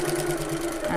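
A sewing machine stitches steadily across fabric while sewing a hobo bag, its motor humming with a fast, even whir close by, and a voice talks over it.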